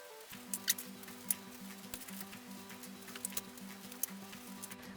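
Scissors snip quietly through paper as petal shapes are cut for a spring flower wreath craft, a few faint sharp clicks over a low, steady background hum.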